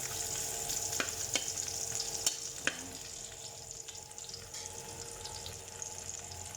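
Garlic sautéing in a pan gives a steady, close sizzle with light scraping and stirring clicks and a faint watery wash underneath.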